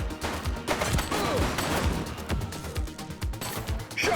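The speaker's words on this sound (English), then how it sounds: "Shots fired!" Rapid bursts of video-game gunfire crackle through a dense, noisy mix of shots and impacts, loud and close, with sharp transients scattered across roughly four seconds.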